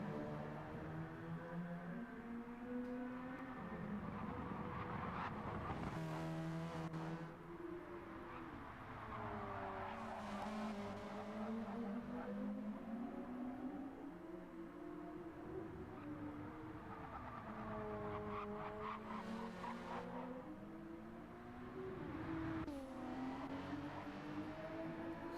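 Gran Turismo GR3 race cars, including a Hyundai Genesis and a Porsche, race around the Trial Mountain circuit. A steady, moderately loud engine drone rises and falls in pitch through shifts and corners, with no talk.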